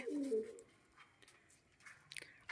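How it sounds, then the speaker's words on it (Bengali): A pigeon in a loft gives a short low coo near the start, followed by quiet gaps, faint rustles and a sharp knock or clatter at the end. "এখানে একটা সাদা পায়রা রয়েছে"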